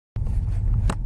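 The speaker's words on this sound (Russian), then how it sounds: "Слушайте, прям выхлопные трубы работают, машины заводят." Car engines running on a frosty morning, a steady low idling rumble close by with a brief hiss of exhaust near the end.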